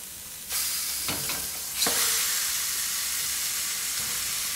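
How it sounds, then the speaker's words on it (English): Thick bacon rashers hit the hot flat plates of a contact grill, setting off a sudden loud sizzle that swells again with a second burst and then holds as a steady close hiss. "On the other side you'd have the flat plates and you'd be putting in your bacon."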